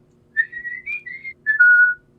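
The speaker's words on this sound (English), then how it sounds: "But I can whistle." A person whistles a short, clear tune of a few sustained notes, close and alone against quiet background.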